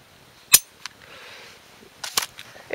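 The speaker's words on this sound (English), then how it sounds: "I'll show you again, I'll dry fire it." Dry-fire clicks from a handgun trigger with roughly a six-pound pull and short travel: one sharp, close click, a softer tick just after, then a small cluster of mechanical clicks and rattles a moment later, all in a quiet room.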